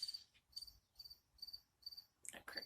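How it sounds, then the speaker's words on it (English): A cricket just outside a front door chirps in a steady, evenly spaced series of short trills, faint and alone, before a louder burst of indoor noise at the end. "That cricket's annoying."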